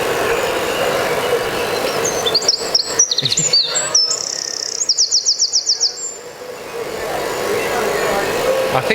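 Birdsong outdoors during a music rehearsal: bright chirps and rapid trilled phrases rise in the middle, over a steady low rumble like a passing engine.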